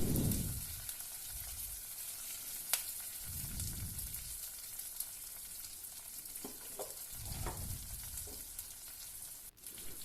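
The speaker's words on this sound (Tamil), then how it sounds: "ஆனியனும் நம்ம சேர்த்துட்டோம். எல்லாமே வதங்க விட்டுறலாம்." Onions and curry leaves sautéing in a pan for a banana flower stir-fry, a quiet steady sizzle with occasional soft spatula taps and a few low handling rumbles.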